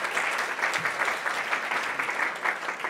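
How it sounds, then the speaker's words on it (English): Audience at a startup and entrepreneur networking event in Times Square gives a dense, continuous round of applause, fairly close and loud, with no talk over it. "One more round of applause for these guys."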